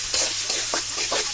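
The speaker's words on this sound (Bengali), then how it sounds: "একটু পেঁয়াজটা একটু ভাজা ভাজা করে নেব।" Chopped onions frying in oil, a loud close sizzle broken by rhythmic stirring scrapes roughly every quarter second.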